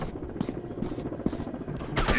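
Rapid bursts of gunfire from a first-person shooter game, PUBG, crack out in quick repeated volleys, loud and close, each burst separated by short gaps, with a heavier burst at the end.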